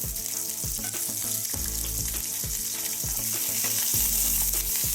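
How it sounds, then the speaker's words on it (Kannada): Mustard seeds, urad dal, onion and garlic sizzle and fry in a hot pan for red chilli chutney, a steady loud crackle with repeated stirring scrapes and no talk. "ಸಾಸಿವೆ ಚಟ್ಟಾಗುತ್ತೆ, ಉದ್ದಿನಕಾಳು ಹಾಕ್ತೀನಿ"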